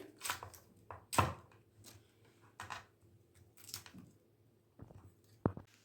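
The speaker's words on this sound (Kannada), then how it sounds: "ಈ ರೀತಿ ಹೂಕೋಸನ್ನ ಫುಲ್ಲು ಕಟ್ ಮಾಡಿ ನೀರಿನಲ್ಲಿ ಚೆಂದ ವಾಶ್ ಮಾಡ್ಕೊಳ್ಳಿ" A knife cuts cauliflower florets in close, crisp, irregular chops and snaps on a quiet kitchen surface, with short pauses between cuts.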